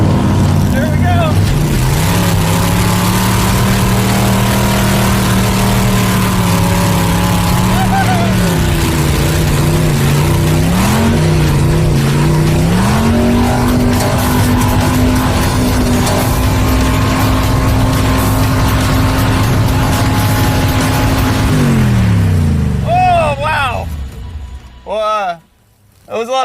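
A go-kart with a Corvette-style body, its small engine stuck at wide-open throttle, drones loudly and continuously with rising and falling pitch, then cuts out near the end, leaving brief quieter moments.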